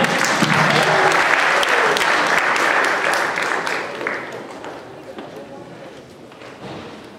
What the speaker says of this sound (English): So a big round of applause for Caitlin and Sabrina Chen.